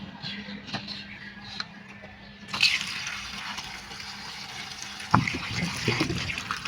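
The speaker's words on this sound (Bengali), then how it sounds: "কচুগুলোকে ভালো করে ধুয়ে নিতে হবে" Taro roots are washed in a container of water, with splashing and sloshing close by as they are rubbed clean, growing louder partway through.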